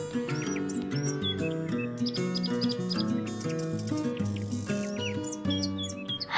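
Birds chirp and tweet in quick, bright bursts throughout, scattered over a steady, sustained musical backdrop.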